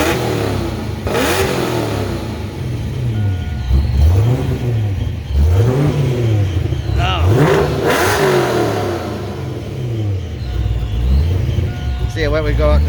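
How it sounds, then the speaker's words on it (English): A supercharged Saleen Mustang engine, running rich, rises and falls through repeated loud revs in a steady rhythm, close up, with someone talking over it. "so it should be somewhat safe to get a little rev on it"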